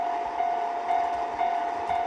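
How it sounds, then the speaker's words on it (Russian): A transit train from Belarus, hauled by a 2M62U diesel locomotive, rolls past a railway crossing with a steady, loud rumble and a sustained tonal whine, no voices. "это транзитный поезд из Белоруссии"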